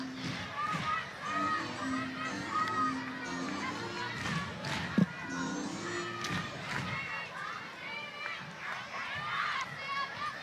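A sellout crowd fills a softball stadium at an AUSL All Star Cup game with a steady roar of shouting and cheering, children's voices high in the mix, plus one sharp thud partway through.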